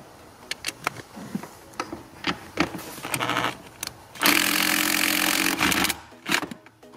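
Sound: impact wrench removing 13 mm nut

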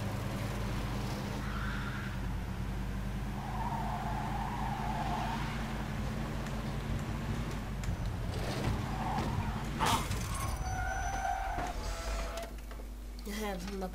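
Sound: car starting and driving in video game Mafia 2

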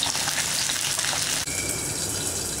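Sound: potato stuffed fish pan frying

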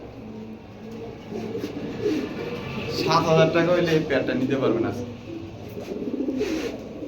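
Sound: pigeons cooing

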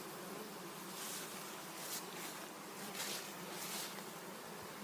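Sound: honey bees at hive entrance

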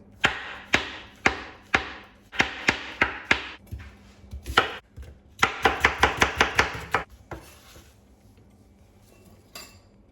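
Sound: knife chopping mushrooms

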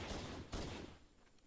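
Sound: chain gun firing in video game Halo: Combat Evolved

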